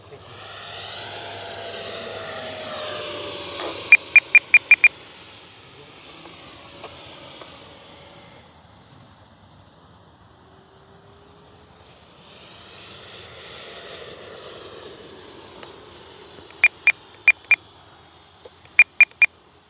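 A Freewing 90mm T-45 Goshawk RC jet flies past, its electric ducted fan whining and swelling as it approaches, then fading and returning, with bursts of short transmitter beeps and someone talking intermittently.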